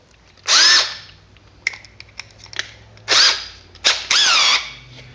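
A power drill with a 7/32-inch bit whirs in short bursts, whining up and stopping several times, with small clicks and taps between runs nearby.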